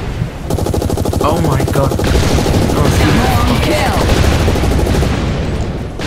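Sustained automatic gunfire from the Hazard Ops video game rattles on without pause, loud and dense, while a player briefly exclaims over it.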